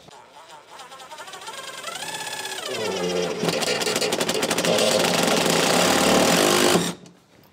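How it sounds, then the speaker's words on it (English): A drill drives a DeWALT flexible shaft accessory with the shaft bent, the motor whirring up in pitch, then a loud rattling, chattering grind under load for several seconds before stopping abruptly. "that was just one example of the way you could use this flexible shaft from DeWALT"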